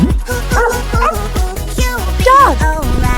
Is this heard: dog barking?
yes